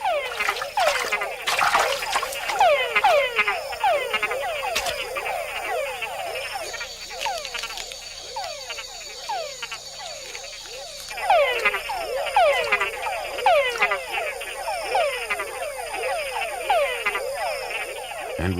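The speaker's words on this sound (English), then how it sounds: "male frogs have to think twice about sounding off, because females aren't the only ones out there listening to the chucks" Dense chorus of male rainforest frogs in Panama, a continuous overlapping stream of short, rapid chucking calls from many animals, fairly loud and steady, with a faint trickle of water underneath.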